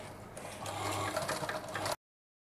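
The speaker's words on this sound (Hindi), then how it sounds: "बस 1/2 इंच छोड़ के स्टिचिंग डाल देंगे।" Sewing machine stitching a fabric top seam, a steady close whirring run lasting about two seconds before stopping abruptly into silence.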